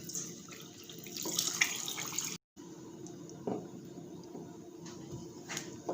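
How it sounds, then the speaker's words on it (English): A steady stream of chicken stock pouring into a soup pot of creamed corn, a continuous soft watery gush with a brief break partway through, fairly quiet and with no talking. "Add your 500 ml of chicken stock."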